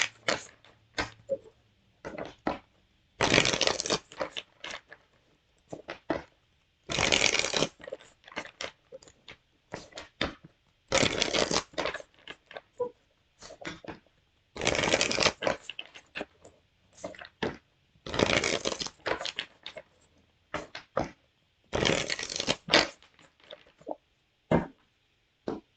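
Tarot cards are shuffled in repeated bursts, crisp riffling bursts separated by quieter pauses and small clicks, close up.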